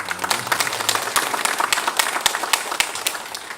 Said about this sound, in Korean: 우리 살아계신 하나님께 다시 한번 영광의 박수 올리겠습니다